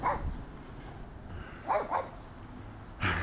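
A small guard dog barks outdoors during a walk, giving three or four sharp, fairly close yaps in short bursts separated by brief pauses over light background noise.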